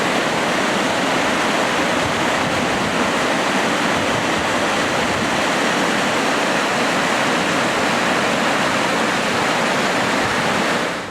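A high river near Taos rushes over rocks, a loud, dense, continuous roar of white water that stays constant for the whole stretch, with no other sounds.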